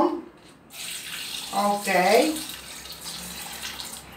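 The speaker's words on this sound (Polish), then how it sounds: "Wkładamy wszystkie do garnka. Zalewamy zimną wodą." Cold water pours from a tap into a pot of scored chestnuts, a splashing, gurgling rush that rises as the pot fills, with a brief spoken word at the start.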